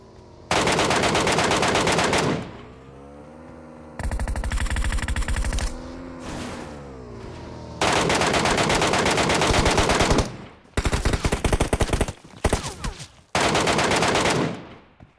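Loud bursts of automatic gunfire from a Battlegrounds Mobile India squad fight, long rapid volleys broken by short pauses and choppier clusters of shots, close and dominant throughout.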